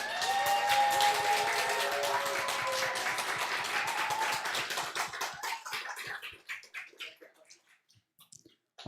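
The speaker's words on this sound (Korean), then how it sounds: "우리 박수로 환영하겠습니다." A congregation at a Korean church worship service applauds to welcome a new member. The loud crowd clapping carries faint tonal sounds underneath, then thins out into scattered claps over the last few seconds.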